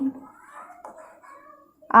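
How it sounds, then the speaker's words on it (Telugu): A cat gives a drawn-out, wavering meow lasting over a second, close and fairly clear, followed by a brief sharp sound at the end. "పిల్లి"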